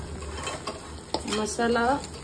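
A spoon stirs matar paneer masala in a pan, scraping and clinking against the metal over a low sizzle, with a few louder scrapes partway through.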